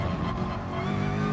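Racing car engine in a McLaren racing video game revving in fifth gear, a steady loud droning hum with layered harmonics sustained throughout, no pauses or voices.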